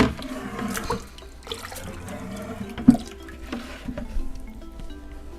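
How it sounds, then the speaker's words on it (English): Water is poured into a decorative orchid pot, producing a soft, continuous trickle and splashing with a brief louder splash partway through, quiet and close. "And fill this pot, this decorative pot, with water."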